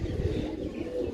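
Pigeons coo softly in a low, continuous murmur, close by, with no voices over them.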